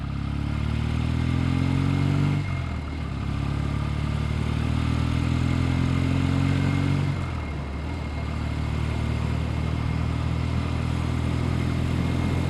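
A Norton 650SS twin with twin carbs and a hotter cam drones hard and close, its revs climbing in long pulls, dipping at two gear changes, then pulling again, with no voices.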